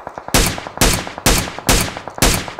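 Gunfire in PUBG Mobile as players shoot each other: five loud, sharp shots spaced evenly about half a second apart, each ringing out over a low background of fainter clicks.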